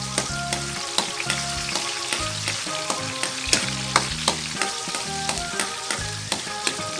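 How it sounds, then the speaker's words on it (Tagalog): Garlic dropped into hot oil sizzles and crackles steadily for squid adobo, a close continuous frying hiss with light stirring clicks, with no talking heard. "Ihulog natin ang bawang."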